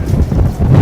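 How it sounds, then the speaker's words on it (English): Strong wind buffets the microphone outdoors on a New York City street, a steady low roaring rumble with gusts swelling louder toward the end, no voices heard. "it's so windy."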